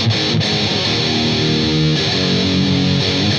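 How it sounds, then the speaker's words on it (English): A Gibson Longhorn electric guitar with high-gain distortion plays a thick, saturated sustained chord, loud and steady with a brief shift near the middle. "It can be heard to great effect with high gain distortion, producing a very smooth overdriven tone."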